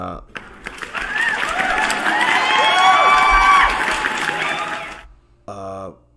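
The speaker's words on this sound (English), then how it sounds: "Let me give you guys a round of applause real quick" A canned applause and cheering effect plays on a cryptocurrency livestream, with a full crowd clapping, whooping and whistling at a strong, steady level for about five seconds. It then cuts off, and a short burst of voice follows.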